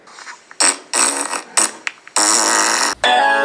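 Comedic fart noise sound effects: a loud string of wet, blurting bursts, short ones first, then a long sustained raspberry that cuts off and restarts briefly at the end, with no talking.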